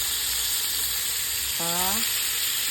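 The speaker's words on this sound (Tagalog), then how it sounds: "Igisa ko na talong." Eggplant sautéing in a hot pan, a steady close sizzle and crackle of frying throughout, with a brief spoken phrase partway through.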